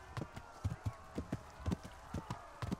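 Horse hooves clopping along a path in the video game Kingdom Come: Deliverance, a steady, fairly quiet run of hoofbeats at an easy gait with no other sounds over them.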